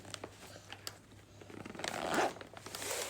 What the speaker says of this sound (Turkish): Hadi fermuarını kapat o zaman.